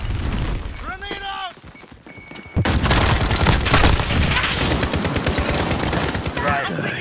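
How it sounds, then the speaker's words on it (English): Call of Duty Modern Warfare gunfire: after a brief voice and a short pause, loud dense automatic fire and bursts break out and keep going, close and harsh, with shouting mixed in. "I'm taking fire!"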